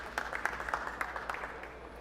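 Audience applause rewarding a shot at a professional pool match, the 2022 Puerto Rico Open, a steady, moderate patter of clapping that fades over two seconds, with no voices over it.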